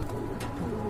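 A pair of red Lahori pigeons at a market stall gives a short, close coo, soft and low, over a steady background murmur.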